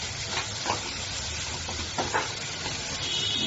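Chopped cooked tomato sizzles in a hot pan for dal tadka with a steady hiss, broken by a few soft scraping stirs.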